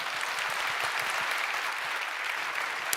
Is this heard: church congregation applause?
yes